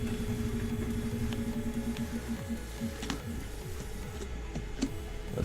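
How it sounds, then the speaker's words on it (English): A loud truck passing outside a window, a steady low engine rumble with a rhythmic ticking pattern that slows and fades as it moves along, continuous throughout. "there's a loud truck outside my window"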